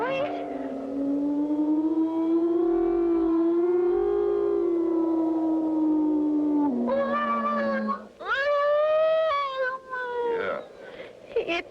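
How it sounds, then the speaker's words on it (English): Cartoon wind howling around a castle tower, a long wavering moan that swells and dips, later breaking into higher rising and falling whines, loud and alone without speech. "Must be the wind blowing around the tower."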